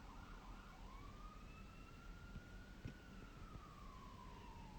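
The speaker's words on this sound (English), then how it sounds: "I hear ambulance here." A distant ambulance siren drifts in and out of hearing, a faint wavering tone riding over steady background noise for several seconds.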